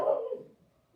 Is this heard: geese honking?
no